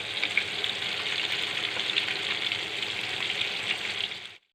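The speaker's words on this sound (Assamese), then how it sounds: "মাছখিনি মই হাফ ফ্ৰাইহে কৰি ল'ম।" Fish pieces half-fry in hot oil for a mustard fish curry, giving a steady, bright sizzle with fine crackling that runs close and continuous before cutting off abruptly.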